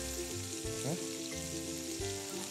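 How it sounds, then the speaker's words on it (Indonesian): Ginger, garlic and scallions stir-fry in hot sesame oil for a Chinese New Year poached chicken dish: a close, steady sizzle with soft stirring, over continuous background music. "Kita oseng-oseng bentar."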